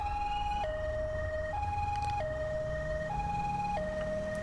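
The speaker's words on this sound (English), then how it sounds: "let's put the blues on, let's put the siren on" A two-tone electronic police siren in GTA 5 alternates steadily between high and low pitch, loud and continuous, with no talking.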